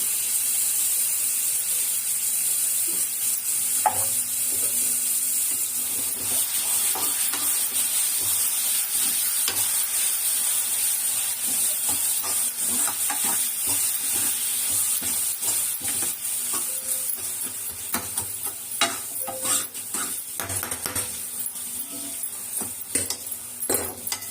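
Ground tomato and curry leaf paste fries in a pan for pirandai kuzhambu, a steady broadband sizzle throughout with scattered stirring scrapes and clinks, growing busier toward the end, no voices.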